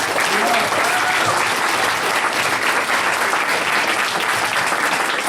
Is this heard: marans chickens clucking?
no